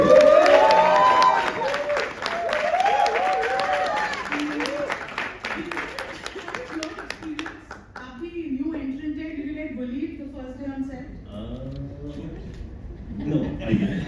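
An audience at a film trailer launch bursts into loud applause and cheering for the director of photography, the clapping fading after several seconds into chatter and a few spoken voices with some laughter.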